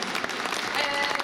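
Audience applause for pageant contestant Klaudia at the Miss Egzotica 2018 beauty pageant: a dense, steady patter of many hands clapping that fills the room without a break.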